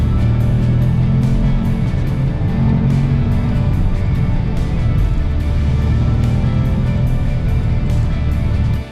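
A manual Porsche Panamera pulls hard on the Stelvio Pass in the Alps, its engine roaring loud and close under full throttle in a dense, sustained rising growl with no talk.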